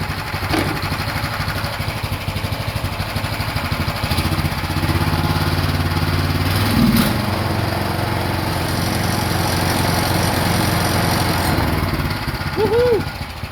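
A golf buggy fitted with a swapped-in replacement motor runs continuously, a loud, close, steady mower-like engine drone with slight rises in pitch and no clear talk.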